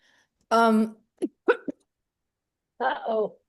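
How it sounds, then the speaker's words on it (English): A single hiccup-like vocal catch followed by a few brief gulping sounds, close and fairly loud, with a short burst of voicing after a pause. "Hiccup. Down the wrong way."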